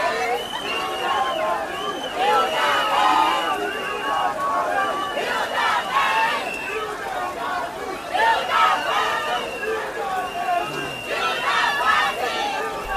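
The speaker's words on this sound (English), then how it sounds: "People stood out there, even in the rain and during late hours, to cheer her on and pray for her." A crowd gathered outdoors cheering on a Nigerian chef during her Guinness world record cooking attempt, with steady overlapping chatter and babble and swelling bursts of cheering throughout.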